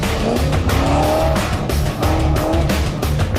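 Race cars power around a pole course at full throttle, engines roaring loudly and steadily with repeated tire squeals and skids as they corner, the din continuous and close throughout.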